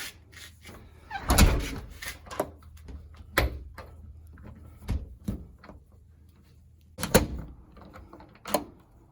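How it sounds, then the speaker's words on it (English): A Reliabilt door with a newly installed handle and deadbolt is pulled shut, its latch clicking into place among several sharp knocks and clunks. The impacts are close and fairly loud against a quiet room. "Have to pull on the door just a little bit to get it in there"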